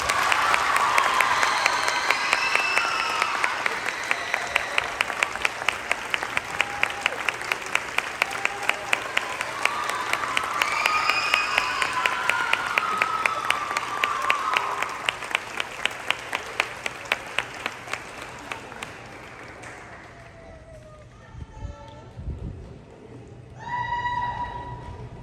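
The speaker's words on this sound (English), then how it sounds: "Please give a round of applause to Miss Aliyah Villamor" Sustained audience applause for a graduating senior at a school farewell-seniors event, a dense steady clapping that continues for about twenty seconds, then thins and fades, with a few scattered claps and a brief voice near the end.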